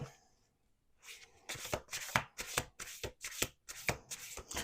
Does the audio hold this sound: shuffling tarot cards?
yes